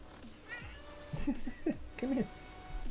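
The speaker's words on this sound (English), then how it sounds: "What's with the sad kitty noises?" A cat named Gila in the Recycling Center Simulator game lets out several sad, whiny meows in quick succession, close and fairly clear over a faint background hum.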